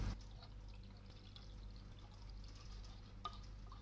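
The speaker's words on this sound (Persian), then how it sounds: "حالا 3 لیوان دیگه بهش آب اضافه میکنیم." Water is poured steadily into a starch mixture for Yazdi faloodeh, making a faint, continuous trickling pour with no talking over it.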